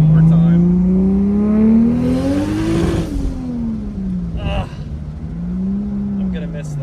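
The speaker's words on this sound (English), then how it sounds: "But that's the fun of owning a Supra, right? Is to be able to do that and listen to the 2JZ." A Toyota Supra's 2JZ engine revs close and loud, its pitch climbing to a peak and then dropping back down before settling into a lower, wavering drone.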